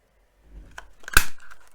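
Scissors snip through metallic paper butterflies, giving a couple of quick, close crisp cuts with a light rustle of the thin sheet.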